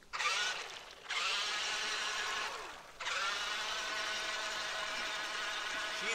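The electric motor of a RUKO 1601AMP amphibious RC car whines steadily and loudly nearby, briefly dipping twice before resuming a continuous high-pitched whir.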